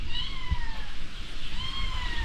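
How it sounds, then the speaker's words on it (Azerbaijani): A cat meows twice, long drawn-out cries close by, with a low rumbling background. "Pişiyimiz, həmişə Pişik, hə"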